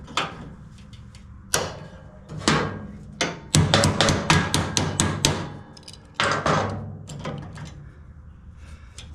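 Sharp metal-on-metal hammer blows ring out up close while a seized cotter pin is driven out on a Yard Machines 638RL riding mower, a few isolated strikes and then a fast burst of repeated hits.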